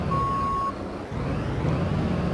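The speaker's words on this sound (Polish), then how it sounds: "teraz my właśnie tym pojazdem będziemy sobie jechać" Fire truck pulling away: one steady reversing beep sounds at the start, then a low truck engine rumble carries on, close and fairly loud, with no talking.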